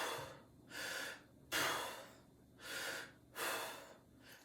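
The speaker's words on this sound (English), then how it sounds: "She's going to teach you a belly breathing technique that looks like this." A woman demonstrates belly breathing for soccer stamina training: slow, audible breaths in and out, about five broad airy swells in a steady rhythm, close and fairly quiet, with no talking.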